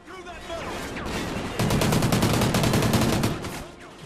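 Rapid bursts of automatic gunfire in the video game Call of Duty: Ghosts crackle in a fast, even rhythm, loud and close, with someone talking over the shooting.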